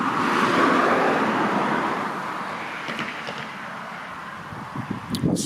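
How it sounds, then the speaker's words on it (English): Car passing a cyclist on a road at night, a broad whooshing roar that swells close by and then fades into the distance, followed by quieter rattles and knocks. "That's the first car that's gone in my direction."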